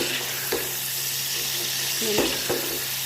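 Coconut milk bubbles and sizzles in a pot on a gas stove as it cooks down into coconut oil, a steady close frying hiss with a few brief clinks or stirring knocks.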